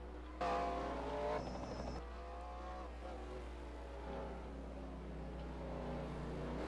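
NASCAR Racing 2003 race cars at Wall Stadium, a steady engine drone with a louder car rising early then settling into continuous hum of several cars circling, no talk.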